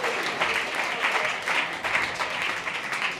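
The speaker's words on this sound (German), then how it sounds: "Trotzdem Applaus für Frau Melanie" Short burst of studio audience applause on a German quiz show, brisk dense clapping with slight rhythmic surges, fairly close and loud.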